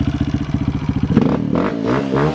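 A Kawasaki KLX170 dirt bike, just off a 24-hour endurance race, revs close by: a fast pulsing idle climbs into a loud, rising engine rev.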